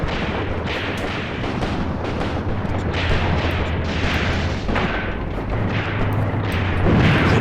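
Artillery guns firing in the World War II tactics game Graviteam Tactics: Mius Front, a dense barrage of loud booms and rumbling blasts, repeated and overlapping with no break.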